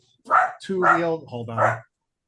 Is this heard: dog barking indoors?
yes